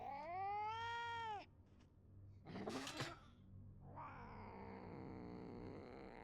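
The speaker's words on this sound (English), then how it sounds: "Why does it sound so real?" A menacing cat in a Junji Ito video game gives a long, loud, wavering meow, then hisses and spits harshly, followed by a lower drawn-out growling yowl.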